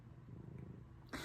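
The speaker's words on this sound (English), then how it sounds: "if you can hear my Kipo is he's purring right here" A cat purring quietly up close as a faint, steady low rumble, cut off by a short burst of louder noise at the end.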